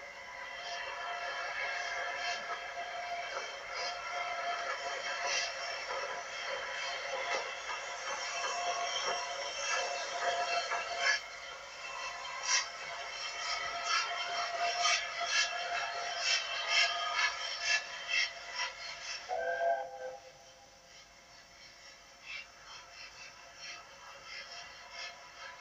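Scottish steam train departing Buchanan Street station in Glasgow on the 17:30 service to Aberdeen in the 1960s, a steady rolling rumble of the train with clanks and squeals, fading suddenly near the end.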